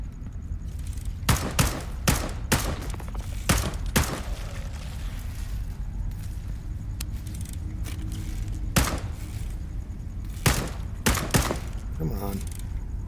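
Gunfire in the VR shooter Into the Radius 2: several sharp, loud shots spaced irregularly across the clip, some in quick pairs, over a steady ambient rumble with a few softer thumps.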